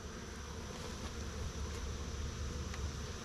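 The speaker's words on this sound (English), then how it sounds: "Sometimes you find that the bees are collected between the woodenware and the outer frame." Honeybees hum around a hive while honey is being pulled with a fume board, a continuous low droning buzz with no voices and faint breezy noise mixed in.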